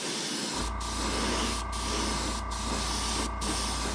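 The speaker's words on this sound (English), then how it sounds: "you just use so much less paint when you airbrush" Airbrush spraying paint starts abruptly and keeps up a steady close hiss over a low hum, briefly dipping four times at regular intervals.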